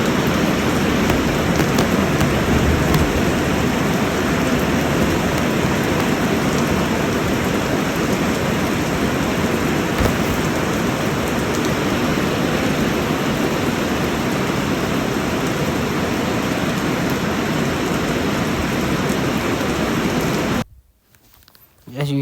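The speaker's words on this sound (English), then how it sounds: "as you hear, there was a lot of thunder too" Heavy rain pours steadily in a dense, hissing roar for a long stretch, with low rumbles of thunder mixed in, then cuts off abruptly near the end.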